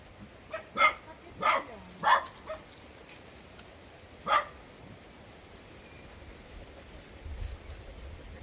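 A dog gives several short barks spaced out over a few seconds, then one more bark after a pause, fairly close against a quiet background.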